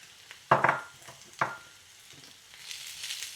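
Squash is added to browned onion in a frying pan. Two sharp sizzling bursts with utensil clatter fade to a quieter steady hiss, and no voices are heard.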